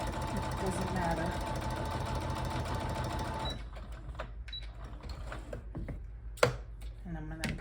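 A sewing machine stitches fabric pieces together in a fast, steady mechanical whir for a few seconds, then stops, leaving quiet handling clicks and soft rustles.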